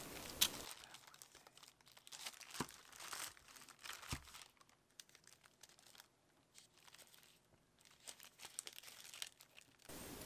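Copper foil and EMI shielding sheets being handled for a radio transmitter, giving close, continuous crinkling and crackling with a few sharper tearing bursts, no speech.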